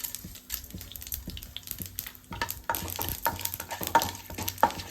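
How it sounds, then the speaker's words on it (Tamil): Mustard seeds and urad dal fry in hot oil in a nonstick pan for coconut rice, a steady close sizzle broken by sharp popping crackles and the scrape of stirring. "எண்ணெய் காஞ்சோடனே கடுகு போட்டுக்கலாம். கடுகு பொரிஞ்சோடனே உளுத்தம்பருப்பு போட்டுக்கலாம்."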